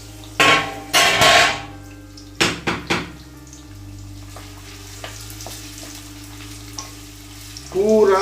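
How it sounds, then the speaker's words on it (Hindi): Pakoras frying in hot oil for a Hindi home-style vegetable curry, with loud bursts of sizzling and spattering when the fritters drop in, then a steady low bubbling hiss with occasional clinks of a utensil against the pan. "यहाँ पे हमको पकौड़े डाल लेने हैं और इनको फ्राई कर लेना है"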